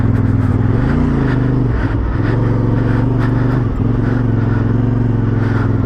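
A CF Moto 450 MT motorcycle on winter ground with original tyres runs through deep grass, its engine a steady close drone with slight pitch dips and rises, riding alone with no talk.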